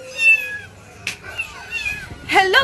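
Cats meowing repeatedly, with several rising and falling meows close by, one drawn out early and a sharp burst near the end, mixed with faint rustling.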